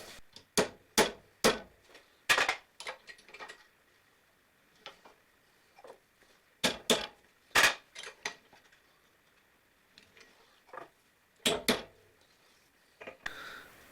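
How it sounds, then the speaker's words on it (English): Metal pieces clamped in a vise are struck with a hammer in sharp, ringing blows that come in quick clusters of two to four, separated by quiet pauses and a few lighter taps. "I'm going to clamp those in the vise and whack them with a hammer to give them some curvature"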